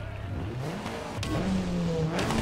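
A race car engine revving at the start of a snowy off-road race in the Gravel racing game, a rising, growling tone that climbs and holds loud and close over a brief stretch.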